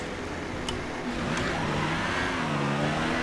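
An F1 race car engine in a video game at the Austrian GP, a continuous high-pitched drone that climbs and settles steadily through the lap, loud and alone with no talking.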